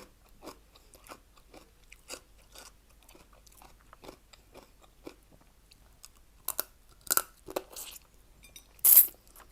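Crunchy food, pounded salmon salad eaten with vegetables, chewed with soft bites that grow to loud close crisp crunches near the end, no talking.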